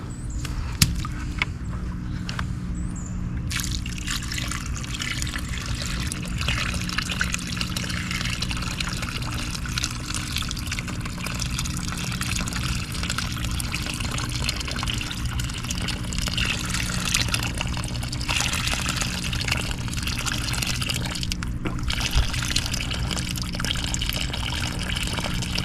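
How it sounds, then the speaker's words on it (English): Water being poured off a compost and manure sample in a container, a steady continuous trickling and splashing pour lasting throughout, close and fairly loud, with no voices. "we're going to pour off the water"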